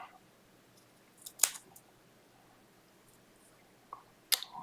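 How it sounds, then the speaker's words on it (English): Small scissors snipping tiny fabric pieces during a sewing workshop, two quiet separate cutting snips a few seconds apart against a soft room hush. "I'll use smaller scissors for that."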